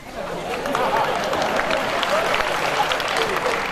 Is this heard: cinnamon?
no